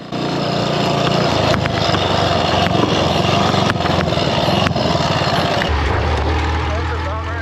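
A vintage Triumph motorcycle racing at the Biltwell 100 in 2024 gives a loud, continuous engine roar mixed with heavy wind rush, steady throughout with no break.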